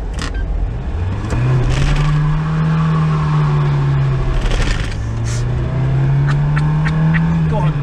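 A Peugeot car at a hillrun event holds a steady loud engine drone with rising and falling revs, likely spinning its tyres, while people talk nearby.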